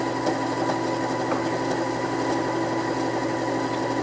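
A Janome DC2030 sewing machine stitches a seam in stretchy fabric, its motor running in a steady, close, continuous whir at an even speed with no voices over it.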